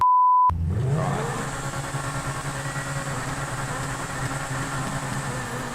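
After a short electronic tone, the Pegassi Zentorno supercar engine in GTA 5 settles into a steady droning exhaust rumble, continuous and fairly loud with no talking.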